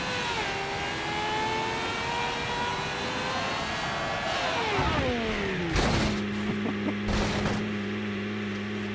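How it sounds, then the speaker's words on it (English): An F1 racing engine in the BeamNG driving game drones steadily, then its pitch falls as revs drop and settles into a lower hum. Sharp crackling bursts cut in near the end. "It's the F1 engine."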